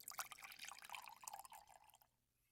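Water pours into a mug in a quiet indoor setting, a close, soft trickling and dripping that runs for about two seconds and then stops.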